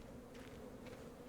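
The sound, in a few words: bees buzzing at a bee farm in a video game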